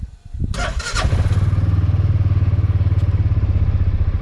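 A 2023 Massimo 550 T-Boss utility vehicle starts: a brief clatter and cranking, then the engine catches and settles into a loud, steady, close idle with a fast regular pulse.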